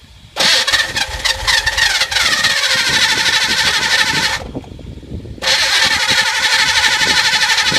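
A Camaro race car engine fires up and runs loud and close, cuts back sharply for about a second, then roars back up to a steady run.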